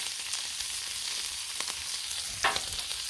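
Collard greens sizzle on a Blackstone griddle at medium heat, a steady close frying hiss with a few light scrapes and one brief clatter near the end.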